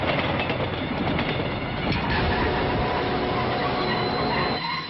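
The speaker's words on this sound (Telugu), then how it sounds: "3వ ప్లాట్ఫామ్ మీద నుంచి బయలుదేరిన విశాఖ ఎక్స్ప్రెస్ లో నక్సల్స్ బాంబు పెట్టారు సార్" Visakha Express train running in a film scene, a loud continuous rumble of rolling wheels with a brief squeal and rhythmic clatter, close and unbroken until it cuts off at the end.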